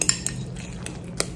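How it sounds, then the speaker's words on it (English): Crab claw meat being stirred and broken up with a utensil in a bowl while making copycat Red Lobster crab stuffing, giving a handful of light scraping clinks and taps over a low background hum. "I'm just gonna stir this up real well. Break up that crab meat."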